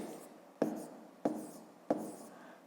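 A pen or pencil writes numbers on paper in three distinct strokes, each a sharp scratch that trails off, spaced about half a second apart. It is close and quiet, with no talking.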